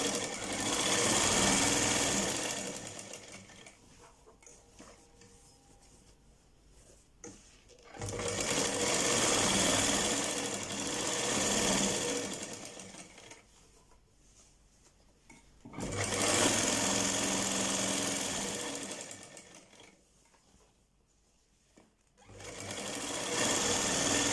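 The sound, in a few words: sewing machine stitching ladies trouser seam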